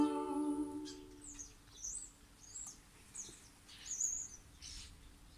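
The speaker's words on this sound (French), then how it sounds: "Du haut de son grand chêne, il répond au hibou." Owl hooting in a French children's song for early music learning: soft, short hoots and chirpy call-like tones ring out repeatedly over a quiet backing, with an instrumental note fading at the start.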